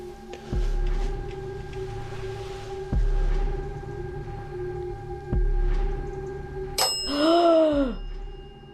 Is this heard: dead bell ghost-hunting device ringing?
yes